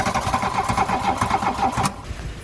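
A classic VW Scirocco, unstarted for six years, cranks loudly and rhythmically on its starter motor for about two seconds, then the cranking stops without the engine catching.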